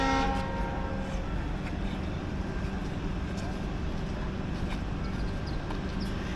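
A locomotive horn sounds on departure of the Shirdi–Mysuru weekly express at a station, a sustained tone that fades within the first second or so into steady, loud train rumble.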